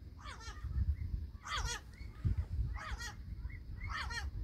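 Repeated loud, harsh squawking tropical bird calls come in bursts of a few seconds apart, over a low background rumble.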